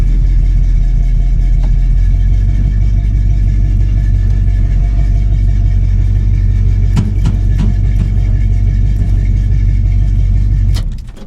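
A Chevrolet Caprice box-body lowrider on hydraulic switches idles with a loud, steady, deep engine rumble as the gas is lightly blipped trying to lift a wheel, with a couple of clunks near the end before it cuts off.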